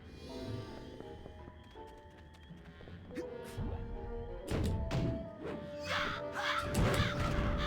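Crows caw repeatedly in the video game Psychonauts: sharp harsh calls over game music, mixed with dull thuds and thumps that grow busier toward the end.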